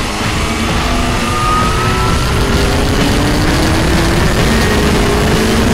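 A Martini car on the Croix-en-Ternois track accelerating with its wheels slipping, the engine droning loud and steady with a rising pitch as it pulls under load, no voices.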